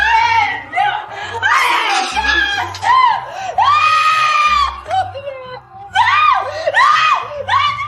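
A woman screams in pain after her arm broke on a film set, with repeated loud, strained cries rising and falling, and voices in between.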